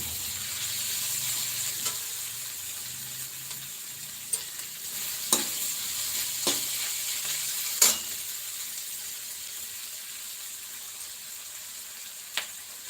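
Green chickpeas (harbhara) frying in a pan make a steady, loud sizzle throughout, broken by a few sharp clicks and scrapes of stirring, with no talking.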